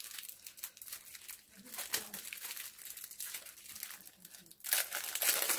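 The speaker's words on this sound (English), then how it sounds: "let me just put the hair net that came with it on and put it on" A hair net and then a bob wig pulled onto a head, making soft crinkly rustles and fabric rubbing that grow louder and brighter near the end, close, with light talk in places.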